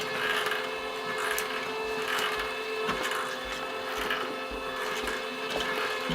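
A LAB500 card labeling machine runs its conveyor of four rubber ribbons, giving a steady, close mechanical whir and hum with faint periodic clicks throughout, no voices.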